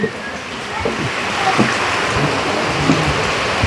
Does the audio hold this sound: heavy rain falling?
yes